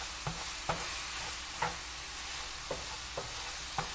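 Food is stirred around constantly in a pan over high heat, a steady sizzle punctuated by about six regular scraping knocks of the utensil.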